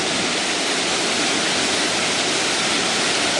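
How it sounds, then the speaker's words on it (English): Good-sized waterfall at the top of Maligne Canyon, plunging all the way to the canyon floor, a loud, steady broadband roar of rushing water with no break and no voices. "We have a good sized waterfall going"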